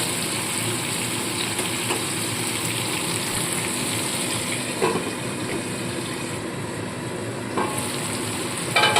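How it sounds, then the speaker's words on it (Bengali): Onion and tomato fry in a covered pan for a potol (pointed gourd) curry, giving a steady, dense sizzle throughout with a few soft stirring knocks near the end, and no voices. "পেঁয়াজ আর টমেটোটাকে সামান্য ভেজে নিতে হবে"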